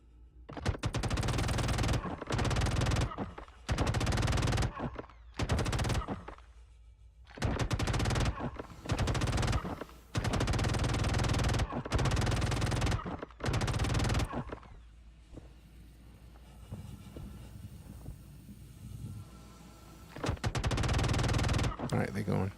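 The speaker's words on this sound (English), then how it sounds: "This is a shotgun." A shotgun fires in the video game Star Citizen Arena Commander, in loud, close, repeated blasts and bursts separated by short gaps, and a voice talks in places between them.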